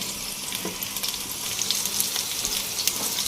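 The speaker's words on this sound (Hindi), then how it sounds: "प्याज का पेस्ट डाल के इसे हमें अच्छे से भूनना भी है।" Onion paste sizzles and fries in a hot pan for a chicken dish, a continuous crackling hiss with small pops that grows slightly louder partway through, with no talking.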